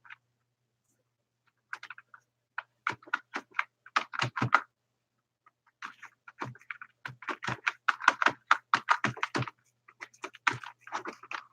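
Typing on a computer keyboard with a sticking spacebar: close, crisp clacking keystrokes in quick bursts separated by short pauses, with no talk.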